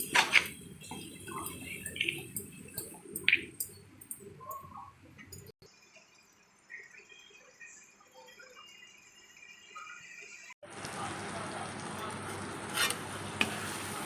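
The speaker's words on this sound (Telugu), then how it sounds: "నూనెలో వేస్తాను నేను. ఒక 2-3 నిమిషాలు ఉడకబెట్టి దింపుకుంటే చాలు." Grated raw mango cooks in hot oil in a pan with a soft, steady sizzle and occasional stirring scrapes, fairly quiet and close, growing louder toward the end with no talk.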